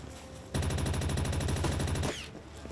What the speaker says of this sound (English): Who's fucking shooting at me from over there?